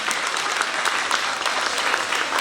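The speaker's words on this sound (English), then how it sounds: "Let's give Mrs. Walker a round of applause." An audience at an end-of-year school ceremony breaks into steady, dense applause that fills the room, many hands clapping continuously without pause.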